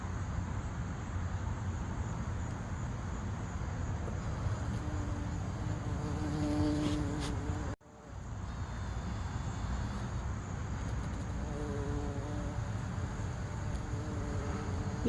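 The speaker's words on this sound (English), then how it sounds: "this little bee over here working it" Close buzzing of a large bee working flowers in a garden over a steady outdoor background hum, droning continuously with a brief dip partway through.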